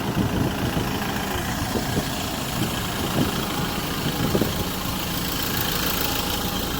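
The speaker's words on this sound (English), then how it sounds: "Delivery truck." A delivery truck idles outside a Cars and Coffee gathering in Japan, a steady mid-level engine drone with a few soft knocks and background bustle, no talk over it.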